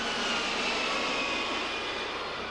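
A steady, broadband roar of an airplane engine holds at an even level throughout, sounding like a nearby aircraft with no talking over it.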